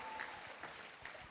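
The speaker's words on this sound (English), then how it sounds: "let's give a round of applause for our 8 ladies and Jonathan" An audience at the Miss Chinatown Houston Scholarship Pageant gives the contestants a short burst of applause, a dense, even patter of many hands clapping.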